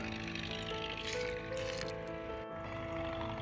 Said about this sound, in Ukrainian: І ось так заливаю в кожну ямку.